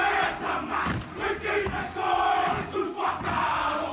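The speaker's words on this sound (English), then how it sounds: "Ladies and gentlemen, give them a round of applause." Rugby event audience cheering and shouting loudly in a continuous swell of crowd noise, with no clear pause.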